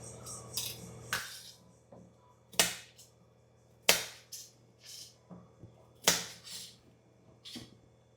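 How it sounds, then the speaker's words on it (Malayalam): A knife cuts vegetables on a board for pickle making, giving a series of sharp, uneven chops and taps, some loud and crisp, others softer, spaced irregularly over a low background hum. "ആദ്യം നമുക്ക് ഇവന്മാരൊക്കെ ഒന്ന് കട്ട് ചെയ്തെടുക്കാം."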